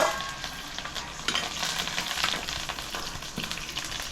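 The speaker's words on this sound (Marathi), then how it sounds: "फोडणी अशी तडतडा होईल." Mustard seeds and curry leaves crackling and popping in hot oil for a tempering, a dense close sizzle with sharp sputtering bursts, no talking.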